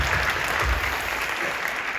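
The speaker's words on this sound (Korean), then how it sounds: "박수 먼저 한번 해주시죠" Dense applause from a church congregation of young adults during a sermon service, a continuous loud wash of many hands clapping with no talking.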